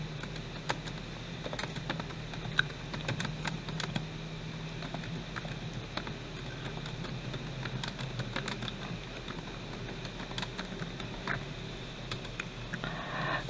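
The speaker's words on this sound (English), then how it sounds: "Let me type that in." Computer keyboard typing during a Roblox obby session, light irregular key clicks and patter running steadily at low level over a constant background hum, with no voice.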